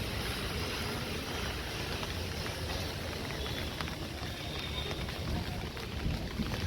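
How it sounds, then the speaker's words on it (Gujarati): Heavy rain falls on an open terrace in a dense, steady hiss that runs unbroken throughout, close and fairly soft, with no voices. "વરસાદ આવે છે ફૂલ."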